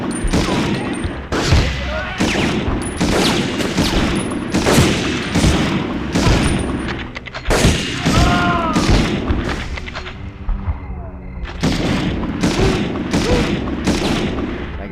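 Rapid bursts of gunfire fill a firefight in the PS1 game Medal of Honor, with loud, dense volleys of shots and booms continuing almost without pause.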